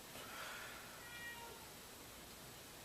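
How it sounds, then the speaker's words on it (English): A pet cat meows from outside a bedroom door, wanting to be let in; the faint, brief cries sit over a steady background hiss, with no one talking. "That was my cat."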